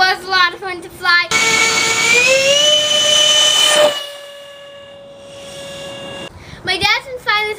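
A Banana Hobby Blitz RC A-10 Warthog jet roars past with a loud, steady turbine-like whine that rises in pitch and then holds, starting abruptly and fading out before voices return at the end.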